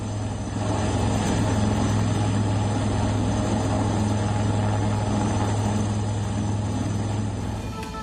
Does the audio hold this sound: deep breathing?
no